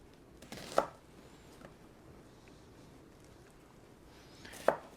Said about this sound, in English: So I'm going to go ahead and give these a slice up like that.